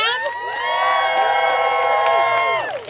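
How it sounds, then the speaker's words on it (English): An outdoor May Day rally crowd in Newton, New Jersey cheers loudly, with many voices shouting and whooping together in a sustained, near roar that drops off abruptly at the end. "A huge round of applause for them."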